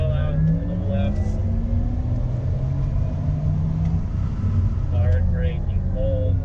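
A Porsche Taycan Turbo S sweeps around a 1.3-mile handling circuit with a steady, loud electric drivetrain rumble and whine that holds throughout, and a voice talks over it.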